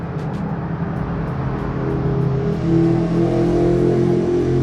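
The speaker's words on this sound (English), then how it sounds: "There's lots of traffic on this road." Steady, loud roar of road traffic with a car passing close by, its engine noise swelling slightly toward the end, with no voices over it.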